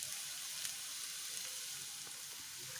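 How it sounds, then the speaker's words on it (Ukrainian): Lard frying in a pan with onion and pepper, a steady bright hiss of sizzling fat with scattered faint pops, constant and moderately quiet throughout. "піджарюємо до золотистої скринки, Закидуємо сало."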